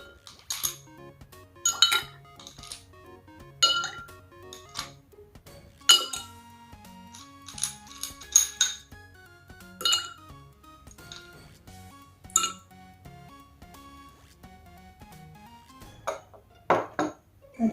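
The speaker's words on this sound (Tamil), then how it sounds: "அடுத்தது இந்த சிப்பி அந்த பெரிய கிளாஸில் போட்டுக்கிறேன்." Shells dropped into a large glass vessel, a series of bright clinks and rattles spaced a second or two apart, close and clear over a quiet background.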